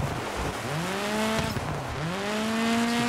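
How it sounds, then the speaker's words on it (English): Car drifting in the DIRT 5 off-road racing game, its engine revving up and down in steady waves under a continuous squeal of sliding tires, close and loud. "Let's keep the drifts going."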